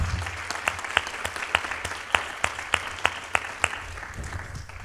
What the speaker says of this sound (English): I will welcome you to the stage with a round of applause